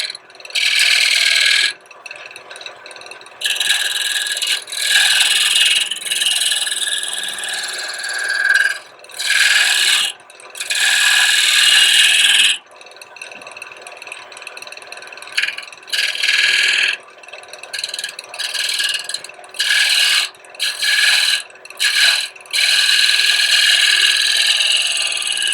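A woodturning gouge shapes the bottom of a wooden box on a lathe, giving loud, close, bright scraping bursts that start and stop repeatedly over several seconds each, separated by short quiet gaps.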